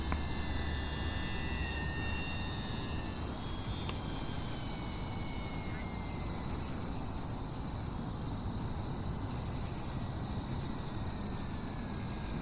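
An E-Flite RV-7 1.1 m electric model airplane flies steadily overhead, a continuous whine with shifting tonal lines over a broad noisy bed, fairly loud throughout with no talk.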